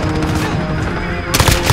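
Rapid automatic gunfire from Call of Duty Modern Warfare, loud and close, a dense rattling burst that continues throughout with a sharper crack near the end.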